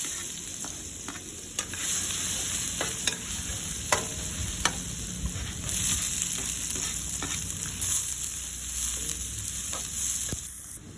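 Garlic and onion sautéing in a pan for braised beef, a loud steady sizzle with frequent scraping stirs of a spatula, close up and without talk.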